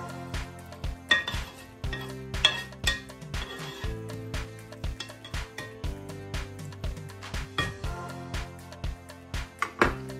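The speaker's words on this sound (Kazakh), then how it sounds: "Ауыстырғаннан кейін жақсылап бір араластырып аламыз" Kazakh pilaf is stirred in a metal pot, with regular clanks and scrapes of a utensil against the pot in a steady rhythm, some sharp clinks standing out, close up and with no talking.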